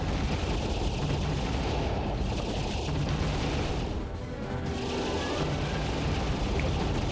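Rapid gunfire from shooting enemies in Star Fox Assault, a dense continuous barrage of blasts and explosions that fills the scene at high volume with a brief lull midway.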